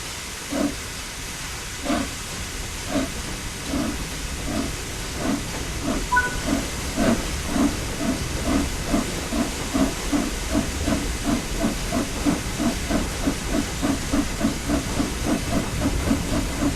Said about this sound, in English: Slowly open the regulator to apply some power.